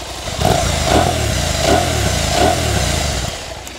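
Engine note of a 2024 KTM 890 Adventure twin with a small exhaust, a steady mid-pitched drone rising and falling in a few gentle throttle blips, close and fairly loud, no talk.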